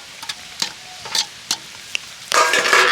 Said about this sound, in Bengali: আবারও খুব ভালো করে মেশাবো।